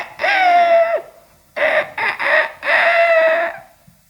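A person imitates a rooster crowing with their voice in long, strained, wavering calls: one drawn-out crow, then a broken stuttering burst, then another long crow. Close and loud, with no other sound.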